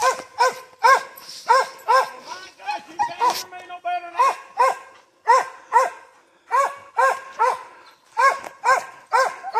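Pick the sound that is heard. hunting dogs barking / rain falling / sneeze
hunting dogs barking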